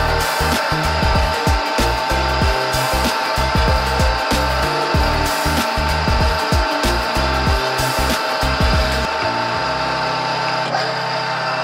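A 1/4 reamer cutting a round hole for a workshop tea warmer build, a loud continuous grinding whir with rapid rhythmic pulses that stops near the end, leaving a lower hum.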